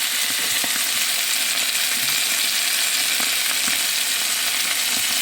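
Vegetables and other ingredients sautéing in a hot pan, a loud, dense, continuous sizzle with occasional stirring clicks and taps, no voices.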